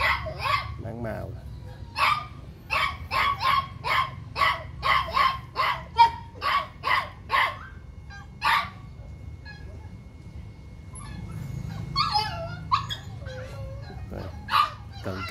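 A Phu Quoc Ridgeback dog at a kennel in Saigon barks repeatedly in an even, rapid series of sharp yaps, loud and near, then a few scattered barks later as a voice talks in the background.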